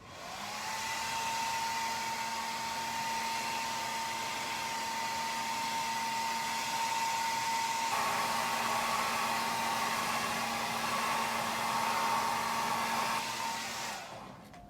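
A hair dryer or heat gun runs steadily and loudly on a crankbait being airbrush-painted, setting the paint with a constant whooshing blow and a steady tonal whine for about fourteen seconds before cutting off.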